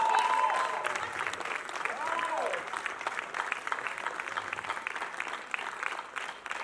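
Audience applause from a crowd at a film appreciation event, a steady moderate wash of clapping that carries on without pause, with faint voices mixed in.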